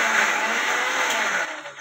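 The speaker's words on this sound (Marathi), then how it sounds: "आमचं न्यू मिक्सर आहे बघा." A kitchen mixer grinder whirring loudly and steadily, then easing off slightly at the end.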